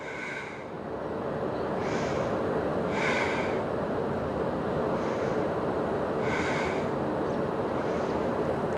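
Breathing during a yoga pose in a grounding yoga session, several audible breaths spaced a second or so apart over a steady noisy background, moderately faint.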